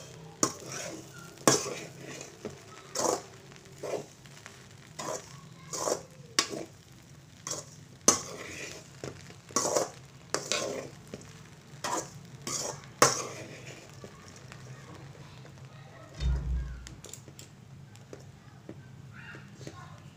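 Bread masala with salt and coriander is stirred in a pan, a run of sharp spatula clanks and scrapes against metal at an irregular pace over a faint sizzle, close by, with a brief low thump near the end.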